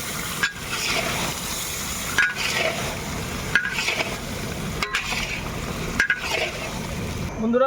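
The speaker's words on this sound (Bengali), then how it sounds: "আলুটাকে ঢেলে দিয়েছি, এখন আমি এটাকে মেখে নেব।" Potatoes coated in spice paste fry in a pan and are stirred, alongside cauliflower and eggplant. A loud, close sizzle is broken every second or so by the scrape of a spatula. No one speaks.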